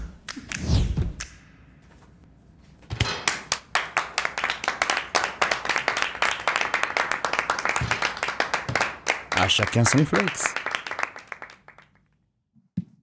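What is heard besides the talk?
people applauding a foldable coat rack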